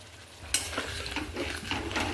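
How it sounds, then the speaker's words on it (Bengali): Ground spice paste fries with potato and onion for a rohu fish curry. A soft sizzle runs under repeated scraping strokes as it is stirred in the pan. "এবার মশলাটা আমি ভালো করে কষিয়ে নেব।"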